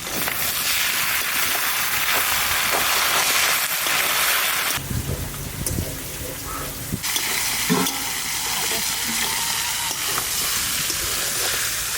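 Goat meat coated in ground spice paste frying in a pan, a dense continuous sizzle that shifts as the food is stirred, with scraping and clattering bursts midway, no voices.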